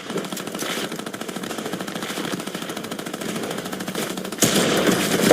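Rapid automatic gunfire in a Fortnite match, pro-am tournament play in Los Angeles, sustained bursts with dense rattling throughout, then a louder burst of shooting near the end.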